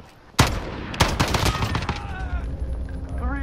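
Burst-fire gun in a video game, a sharp opening shot followed by quick clustered bursts of close, loud gunfire, with a voice speaking briefly near the end.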